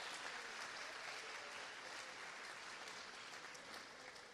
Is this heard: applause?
yes